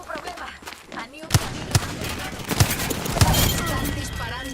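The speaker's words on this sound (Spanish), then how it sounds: "Están disparando." Rapid gunfire in a shooter video game, a string of sharp, loud shots cracking in quick succession over busy game effects, with a voice talking over the action.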